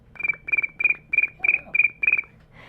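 A person's voice imitates cricket chirps: seven evenly spaced, high trilling chirps in a steady rhythm, close and clear.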